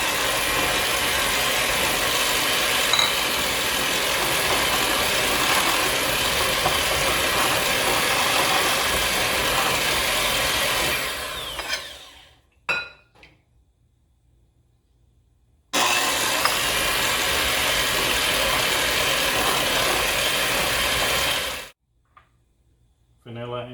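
A hand or electric mixer churns banana bread batter after eggs and vanilla go in, a loud steady whirring grind that runs about twelve seconds, stops, then returns for another stretch before cutting off.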